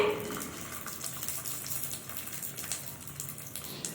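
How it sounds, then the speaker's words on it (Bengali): A soft, continuous bubbling sizzle of wheat-flour dough deep-frying in ghee over a low flame, quiet and steady with faint crackles throughout. "এই যে দেখুন কত সুন্দরভাবে ভাজা হচ্ছে।"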